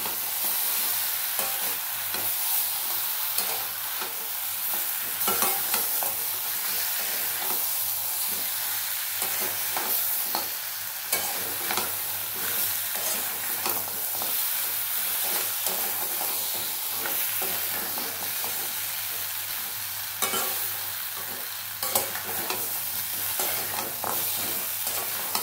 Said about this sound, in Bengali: চলো এবার আলুটা দিয়ে আর কিছুক্ষণ কষাবো